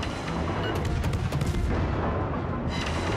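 Artillery airstrike shells land in a naval battle video game, a rumbling barrage of deep booms and crackling blasts rolling together, fairly distant and steady.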